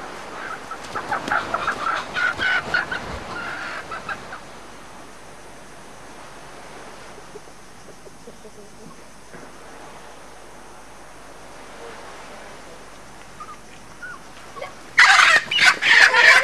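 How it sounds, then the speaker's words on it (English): A chicken on the reality show Survivor UK clucks in loud bursts, first in a cluster of squawks over the first few seconds, then again in a sharp flurry near the end, with quiet outdoor ambience between. "An hour later, the chicken returns."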